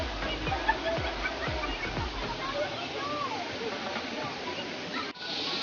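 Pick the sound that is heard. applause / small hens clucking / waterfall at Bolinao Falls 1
waterfall at Bolinao Falls 1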